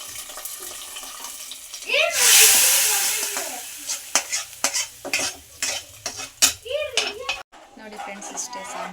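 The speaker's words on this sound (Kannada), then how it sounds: "ಒಗ್ಗರಣೆನ ಸಾಂಬಾರಿಗೆ ಮಿಕ್ಸ್ ಮಾಡ್ಕೊತಾ ಇದ್ದೀನಿ." Curry leaves and mustard seed tempering stirred into sambar in a pan, with a loud sizzling burst followed by repeated clinks and scrapes of the spoon against the pan.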